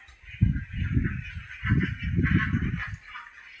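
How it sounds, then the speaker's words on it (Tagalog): A flock of ducks quacks together in a dense, continuous chorus of nasal calls coming in overlapping bursts, fairly close, with no talking. "Napakaraming itik pala."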